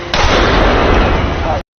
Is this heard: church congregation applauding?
no